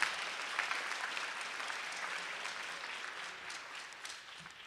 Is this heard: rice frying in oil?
no